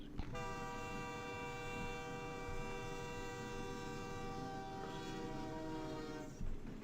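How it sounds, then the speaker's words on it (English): A cargo train horn sounds near a house beside the tracks as the train passes, one loud, steady blast held for about six seconds before it cuts off. "I live right next to a train track, and sometimes you do hear their little horns going as they're going past."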